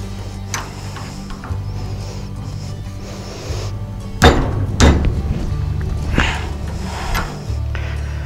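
A few sharp metallic taps knock a part loose during CAT pump valve maintenance, with two close, distinct hits near the middle of the clip and a softer knock later, over a low steady hum in a quiet workshop.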